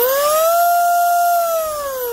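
A brushless outrunner RC motor on a 3S battery whines up to full throttle, a loud, smooth rising tone that holds steady and then eases slightly at the end.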